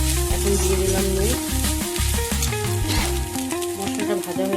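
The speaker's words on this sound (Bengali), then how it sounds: "মশলাটা ভাজা হয়ে গেছে" Ground spices and salt frying in a pan for a vegetarian Bengali taro-leaf dish, a dense continuous sizzle with stirring scrapes, close and fairly loud.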